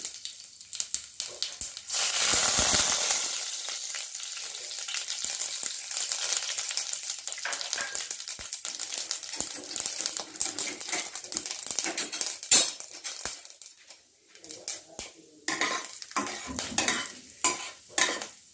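Black mustard seeds and dried red chili pieces sauté in a hot pan, with a loud burst of sizzling early on, then crackling pops, spatters and frequent utensil scrapes against the pan, and no speech.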